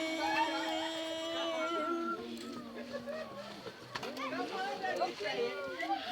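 A man imitates a bird call with his voice, making warbling, cooing, pigeon-like tones that continue throughout with slight shifts in pitch, close and clear.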